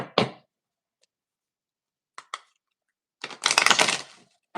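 Tarot cards being shuffled in short bursts: a quick riffle, a pause of silence, two light flicks, then a longer, louder riffle close to the microphone, with no talking.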